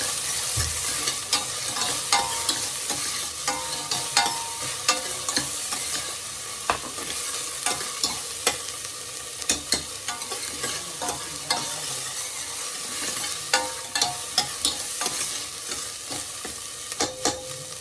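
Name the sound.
sautéing banana stem soup ingredients in a pan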